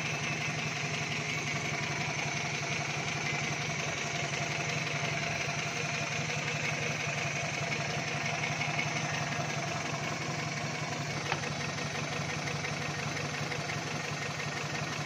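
Car engine idling steadily while warming up during a carburetor tune-up, a constant even hum with faint vibration, moderately quiet and close, no talk.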